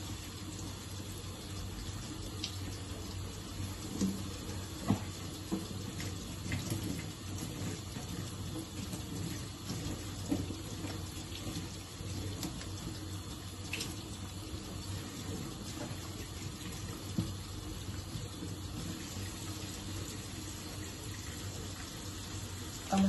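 Tap water runs steadily into a kitchen sink during dishwashing, a continuous close splashing rush with occasional clinks, no talking.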